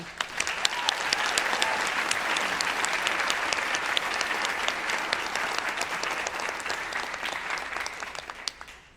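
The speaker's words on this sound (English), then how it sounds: "Let's have another round of applause for Joy." Large audience applauding at the 2024 New York School of Interior Design commencement ceremony, sustained clapping from many hands that holds steady and then tapers off at the very end.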